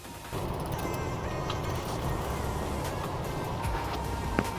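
Ratchet wrench clicks steadily while loosening a bolt in a car's engine bay, a close, continuous mechanical ratcheting with a faint creak near the end.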